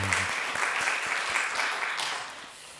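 Church congregation applauding the worship team during a Sunday morning service, a dense, steady wash of many hands clapping close and loud throughout, easing slightly toward the end.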